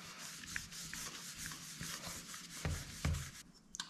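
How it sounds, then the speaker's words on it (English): Close, soft rubbing of a cloth or hand working wood finish into the grain of a tabletop leg, a gentle rhythmic swishing scrape repeating in short strokes with a few light knocks. "the little bit that's on my hand will rub into the grain of the wood"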